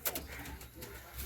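Pigeons of Madrasi and Andhra breeds cooing in a loft, a few soft low throaty coos close by with faint background voices.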